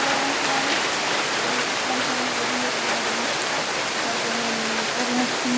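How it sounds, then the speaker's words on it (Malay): Steady rain falls over an abandoned, deserted village, a dense, even hiss that continues without a break for the whole stretch, with a faint low hum beneath it. "Oh, hujan."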